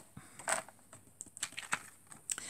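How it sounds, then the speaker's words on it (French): Scissors cutting out a stamped paper piece for a Christmas card, a few short crisp snips and rustles, close and quiet, heard alone. "Donc je viens découper."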